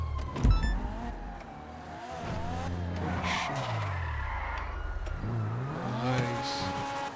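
A car in an Unreal Engine 5 video game revs and shifts. Its engine tones rise and fall in repeated sweeps, with a brief squeal or skid near the start, heard up close and steady throughout.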